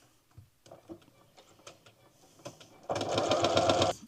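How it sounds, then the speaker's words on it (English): Sewing machine stitching the corners of a flower-themed sampler quilt block: after some light handling clicks, a loud, steady whirring run of the motor lasts about a second, close up and with no talk over it. "So we're going to sew like that, stitch and flip them up"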